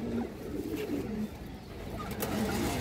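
Pigeons coo close by in soft, low repeated calls over a quiet room-like background, with no talking.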